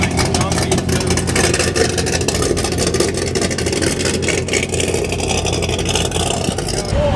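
A Ford Mustang Shelby GT350R with aftermarket cams rumbles loudly and close at a local car meet, its choppy idle punctuated by sharp revs through the whole stretch.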